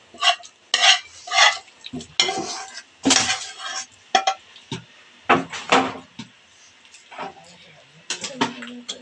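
Pre-cooked chicken curry being added and stirred into a pot of chicken biryani: repeated scraping and clinking of a utensil against the metal pot in irregular bursts, close and clear.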